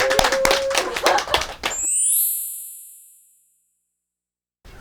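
A small group claps to welcome a model at a camping-chair comparison, a quick burst of hand claps that gives way to a bright ringing chime fading into silence.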